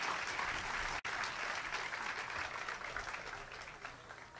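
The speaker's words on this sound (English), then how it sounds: "How about a big round of applause for Hank Mobley?" Audience applause at the Newport Jazz Festival in Newport, Rhode Island, a steady crowd ovation heard faintly as if from an old live recording, with one brief dropout near the start.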